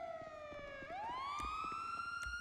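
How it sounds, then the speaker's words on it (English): A police car siren wails in a GTA roleplay game, a short faint electronic tone dipping then sweeping back up and holding, over low background noise. "sorry, it was just a ghost siren"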